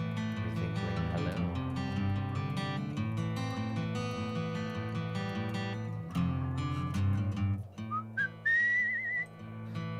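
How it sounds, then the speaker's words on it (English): In the video game Where the Water Tastes Like Wine, a walking character whistles a short rising tune near the end over steady, tonal background music. "I can whistle while I walk"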